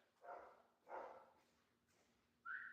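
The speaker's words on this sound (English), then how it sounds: "Dog's barking again." A dog barks several times in short, separated bursts, fairly faint and in the background with no talking.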